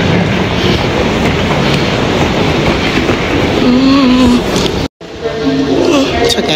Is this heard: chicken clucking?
no